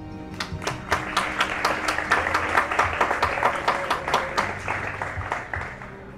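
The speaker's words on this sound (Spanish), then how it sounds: "Por eso pedí otro aplauso" Audience applause at a high school graduation ceremony, moderately close, with distinct sharp claps standing out from a steady patter for about six seconds.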